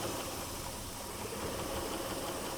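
Rough-running engine of a 2010 Chrysler Town & Country minivan, a steady broadband hum and hiss with uneven vibration, continuous and fairly loud throughout with no talking.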